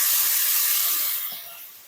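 Ginger, chilli and garlic paste sizzles in a hot pan with turmeric and salt, giving a steady close frying hiss that eases slightly toward the end.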